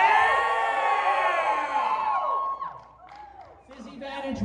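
An audience at a climbing club's Rocktoberfest speech yelling, whooping and cheering loudly together, the crowd noise filling the first half and then breaking into scattered shouts and whoops.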